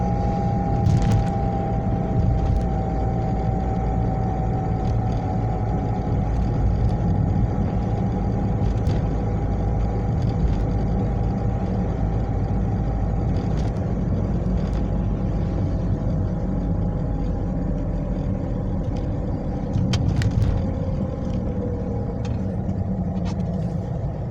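Car turbocharger turbine heard from inside the vehicle, a steady low engine drone and road rumble with a faint, thin whistle drifting above it throughout.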